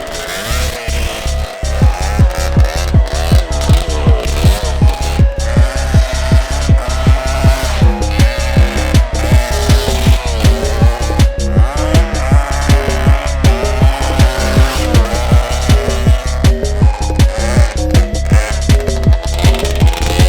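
A 250cc mini quad is ridden with a loud, close, buzzing engine revving hard in a fast steady pulse, pitch rising and falling with throttle throughout.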